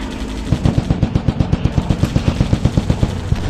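Rapid automatic gunfire from the Commando video game, a loud steady stream of sharp, evenly spaced shots fired in one continuous burst with no pauses.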